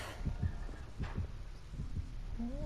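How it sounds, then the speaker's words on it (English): In the video game Dead by Daylight, a heartbeat sounds as low, muffled, evenly spaced thumps in a steady rhythm, moderately loud over a droning hum with no speech. "But he hears the heartbeat here"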